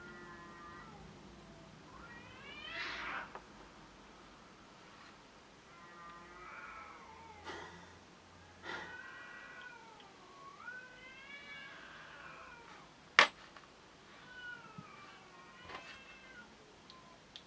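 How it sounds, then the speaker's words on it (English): An unhappy cat gives a string of drawn-out, wavering meows with pauses between them, set against a quiet indoor background with an occasional sharp click. "Cat doesn't sound happy at all."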